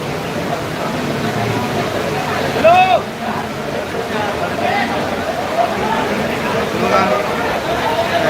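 Floodwater surges down a city street in Ghatkopar, Mumbai, after a cloudburst, a steady rushing wash close by under a talking voice, with faint vehicle sounds and a brief louder splash partway through.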